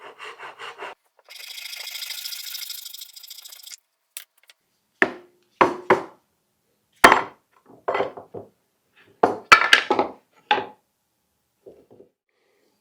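Dense maple wood being cut flush by hand, a steady rasping stroke sequence followed by a series of short separate scraping and knocking bursts, close and fairly loud with pauses between.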